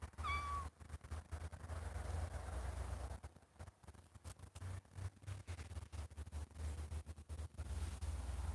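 Kitten meowing outdoors among trees, one short clear meow near the start, then faint rustling and crackly background noise with no further calls.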